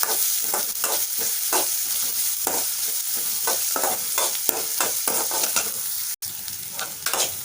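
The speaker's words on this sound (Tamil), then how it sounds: "இப்போ நம்ம எண்ணெய் காஞ்சதுமே கடுகு, கருவேப்பிலை, வரமிளகாய், பெரிய வெங்காயம் இது எல்லாத்தையும் சேர்த்து நல்லா இப்படி தாளிச்சுக்கணும்." Mustard seeds, curry leaves, dried chillies and onion fry in hot oil, a loud continuous sizzle with rhythmic stirring scrapes and crackles close by.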